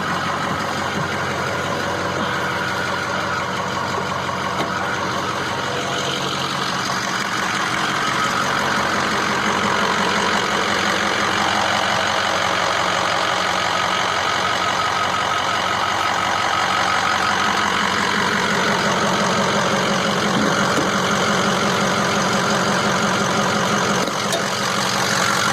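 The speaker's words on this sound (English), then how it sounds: "we're going to go ahead and crank up the truck. Sorry for the non sequitur, but this is the diesel." A Ford F250 diesel pickup idles with a loud, constant clattering drone that holds steady the whole way through, close by and with no talk over it.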